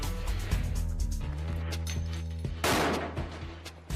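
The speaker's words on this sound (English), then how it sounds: "For a sudden attack on the senses of both sight and sound, there's nothing like the 1-2 punch of a flashbang." A flashbang stun grenade goes off in one sudden, loud, broadband blast about two-thirds of the way through, over a steady bed of background music.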